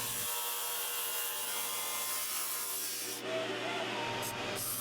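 A drum sander fitted with a new 80 grit sanding belt runs steadily with a dense, continuous abrasive rush over a low mechanical drone, loud and close throughout.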